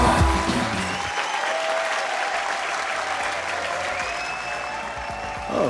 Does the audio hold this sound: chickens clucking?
no